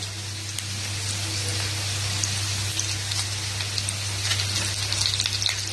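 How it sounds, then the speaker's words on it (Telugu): Lentils, cumin, dried red chillies and curry leaves frying in oil for a bitter gourd garlic chilli dish, a soft steady sizzle and crackle with a low hum beneath, no talking. "ఇవన్నీ కూడా ఇప్పుడు చక్కగా నూనెలో వేసి మగ్గిపోతాయండి"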